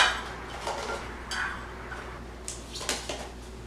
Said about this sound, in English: As I hammer butter into this cup.